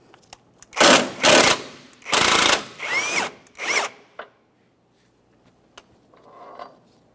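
A power tool spins off an engine mount bolt on a 2014-2018 Mazda 3, several loud close bursts of whirring and ratcheting, each a second or so long, then a faint rattle of the bolt after.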